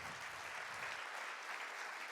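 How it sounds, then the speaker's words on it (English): Steady applause from a conference audience recognizing competition entrepreneurs, a dense wash of clapping that holds evenly throughout. "thank you for that round of applause to recognize their hard work and their innovation"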